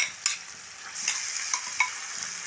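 Boiled plantain, cooked with salt, is stirred and mixed in a pan with spices, giving soft repeated scraping strokes and a faint sizzle, quiet and close.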